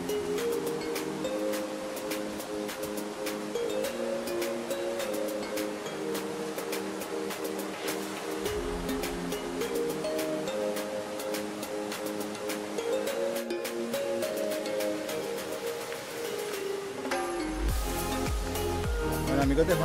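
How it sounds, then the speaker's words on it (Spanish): The Río Claro flows continuously in the background near the Cajones canyon, a steady broad wash of rushing water under hiking footsteps, rustling and other outdoor movement. "Ya se escucha el río."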